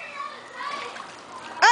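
A voice chatters softly, then a short, bright splash of water bursts out at the very end.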